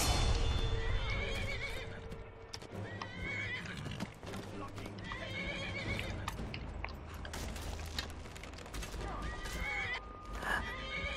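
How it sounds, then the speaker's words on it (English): A horse in the video game Skyrim whinnies amid clip-clopping hooves and game sounds, with several loud neighs and snorts spread over the clip, close and prominent, while someone talks at times. "Just a horse."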